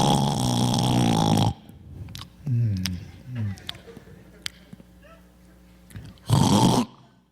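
A voice imitates loud, heavy snoring during a stand-up comedy routine: rasping snorts and gurgling breaths with pauses between them, framed by louder vocal bursts at the start and end.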